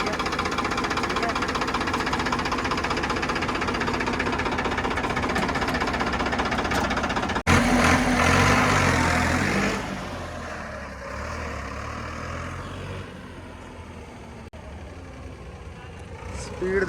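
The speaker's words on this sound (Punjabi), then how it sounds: "ਅੱਜ ਤੁਹਾਨੂੰ ਚਲਾ ਕੇ ਦਿਖਾਉਂਦੇ ਆ" A Farmtrac 60 tractor's heavy diesel engine runs loudly and steadily, then revs up sharply with a rough, knocking roar before easing back to a lower rumble, with voices talking over it.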